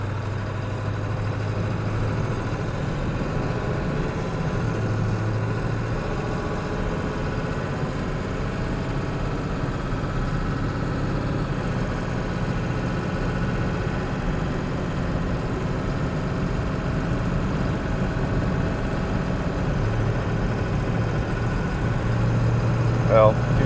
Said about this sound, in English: Let's pull out on the highway and let you hear this